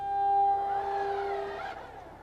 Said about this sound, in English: That sound was the motor syncing back up.